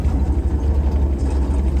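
A 1943 Dodge Weapons Carrier engine idles with a steady, loud low rumble, close and continuous without change.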